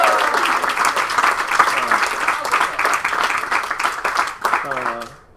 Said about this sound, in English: give a round of applause because he had his first child on Thursday